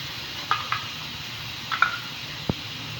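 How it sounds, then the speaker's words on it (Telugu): Onion masala paste fries quietly in a pan for paneer matar masala, a low steady hiss broken by a few light clinks and scrapes of a spoon against the pan. "మన పేస్ట్ అంతా కొంచెం ఫ్రై అయిందండి, ఉడికినట్టు అయింది."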